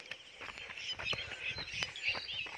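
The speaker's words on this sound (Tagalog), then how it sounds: "Daming ibon dito guys." Many wild birds call and chirp in a mountain forest in Aurora, Quezon, with overlapping high tweets over steady background noise and quiet voices nearby.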